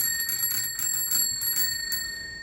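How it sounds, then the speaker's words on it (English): A small bell on a homemade kids' activity board rings out several times in quick succession, its bright, sustained metallic tones overlapping close by with no talking. "and a bell"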